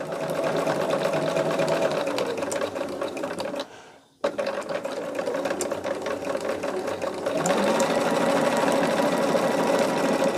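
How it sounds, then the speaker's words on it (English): Sewing machine stitching quilt pieces together at a quarter-inch seam, a steady close whirring drone that pauses briefly near the middle before resuming, slightly louder toward the end. "I'm going to put a pin right in the center of it and then sew it all at 1/4 inch."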